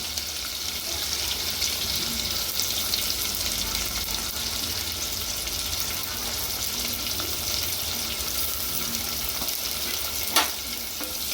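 Chopped onions fry in a pan for handi chicken, giving a steady, close sizzle with a faint clink near the end.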